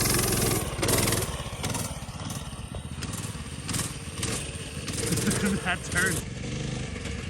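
A minibike engine buzzes continuously as it is ridden, its revs rising and falling close by, while people talk over the drone.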